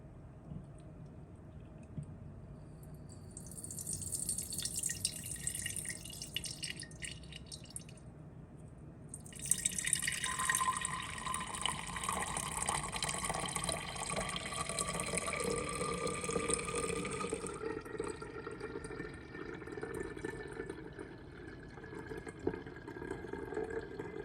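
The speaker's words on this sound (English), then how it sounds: "I take my vinegar, pour it right on in." Homemade vinegar is poured into a jar, a close liquid stream with splashing and gurgling that swells, runs steadily for several seconds, then thins to drips, with no talking.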